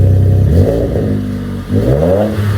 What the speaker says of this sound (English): That sounds really good. Rev it up.